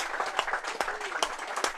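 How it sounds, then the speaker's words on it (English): Spectators at a premier club rugby match applaud two players leaving the field, a short burst of scattered crowd clapping at moderate distance with a faint voice underneath. "big round of applause for the two players coming off"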